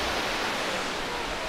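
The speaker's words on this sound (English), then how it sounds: "There's the waterfall over there." Waterfall at the far end of Adams Canyon in Utah, a steady broad rushing roar of falling water that fills the whole clip, constant and loud like wind-blown surf.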